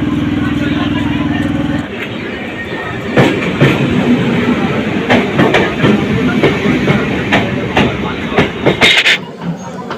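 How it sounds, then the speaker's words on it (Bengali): A Kolkata Circular Railway local train pulls out of Tala station, a steady engine hum giving way to rumbling wheels and rhythmic clacks over the rails, with passengers chattering around throughout. "বন্ধুরা আমাদের ট্রেন কিন্তু টালা স্টেশন থেকে এখন ছেড়ে দিল।"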